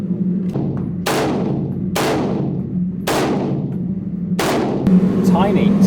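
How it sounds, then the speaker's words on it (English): A Glock pistol fires four loud, close shots at roughly one-second intervals, each a sharp crack with a short ringing decay. "I enjoyed firing the Glock."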